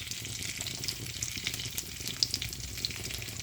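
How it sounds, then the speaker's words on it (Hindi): Garlic frying in hot oil for chicken tikka broast, a dense bright continuous sizzle with small pops and faint stirring, steady and close, with no one speaking. "तो अब हम जो है ना इसमें अपना गार्लिक ऐड करेंगे"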